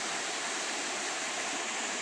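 Steady broadband rush of the low first tier of the five-tier Ompang waterfall in Kampar Hulu, a continuous even roar with no voices over it.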